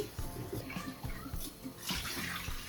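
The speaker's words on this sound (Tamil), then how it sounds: "நாங்கள் அரிசிய கழுவி" Rice being washed by hand in water, with irregular splashing and sloshing swirls repeating at a moderate pace, close by and fairly quiet, in a home kitchen where milk is boiling for pongal.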